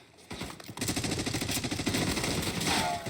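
Rapid machine gun fire in the Call of Duty Black Ops 6 multiplayer game, dense sustained bursts close and loud after a short quiet start, without speech.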